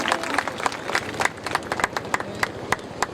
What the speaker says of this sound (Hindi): सरपंच साहब का भी जोर से तालियों से स्वागत करें।